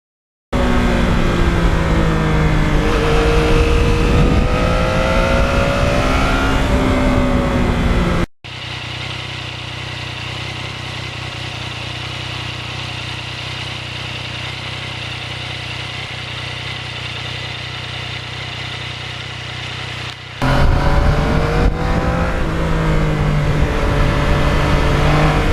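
A 2020 Yamaha MT-09 motorcycle fitted with a quiet exhaust, running steadily with a couple of rising revs, then a long low idle-like drone before the revving returns, loud and close throughout with no talk.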